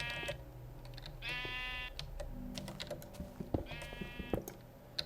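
A sheep in the Minecraft video game bleats twice, quietly, over the steady clatter of close computer keyboard typing.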